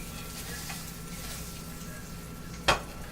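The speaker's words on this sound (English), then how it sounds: "I'm going to flip or sizzle these sausages a little bit." Sausages sizzle quietly and steadily in a frying pan, a soft continuous crackle broken near the end by one sharp clink of a utensil against the pan.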